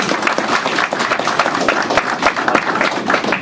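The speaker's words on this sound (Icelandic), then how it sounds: "Gefið íslenskum kúabændum gott klapp." An indoor audience in Iceland gives dense, lively hand clapping that stays close and even throughout, with no speech over it.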